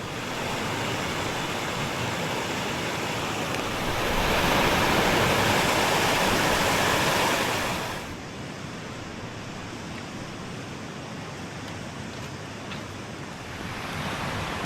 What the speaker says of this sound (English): the rain's starting to pick up